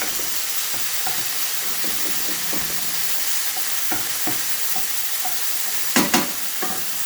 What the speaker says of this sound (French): Je fais revenir la viande rapidement pour la faire colorer un petit peu.